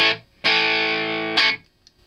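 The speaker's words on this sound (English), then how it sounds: "BYOC clone of the DoD 250 Overdrive, which I had as a kid" Electric guitar run through a BYOC clone of a DoD 250 Overdrive pedal, playing a single sustained distorted chord that rings for about a second, with a short bright pick attack at the start and another near the end, loud and close with no talk.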